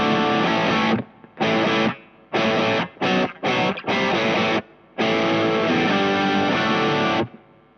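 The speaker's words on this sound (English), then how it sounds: "the Duke of Tone on its own sounds like this." Electric guitar driven through a Duke of Tone overdrive pedal: crunchy, gritty chords strummed in short bursts separated by brief silences, loud and close with no voices.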